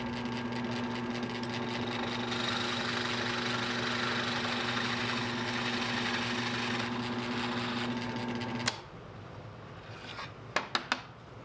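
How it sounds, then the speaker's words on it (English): A steady, high-pitched drill whine boring a 3/8 inch hole in white oak runs continuously, then stops, followed by a few sharp clicks and knocks. "The first thing I'll do is drill a 3/8 inch hole for hanging."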